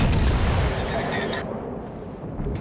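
Heavy video-game artillery fire booms in dense, loud rolling blasts, with a voice speaking over the barrage.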